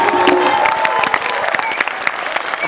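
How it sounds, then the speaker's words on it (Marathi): A school event audience of students and parents claps loudly, a dense burst of applause with some cheering, sustained and close, with a voice faintly mixed in. "जोरदार टाळ्या."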